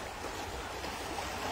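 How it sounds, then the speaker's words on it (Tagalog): Strong river current rushing steadily at a slippery, mossy stream crossing, a broad continuous wash of water with no break and no talk. "Ayan, lakas ng agos"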